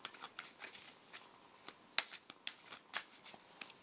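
Tarot cards being shuffled and cut at close range, a quiet run of soft riffling flicks and light snaps with one crisper tap near the middle.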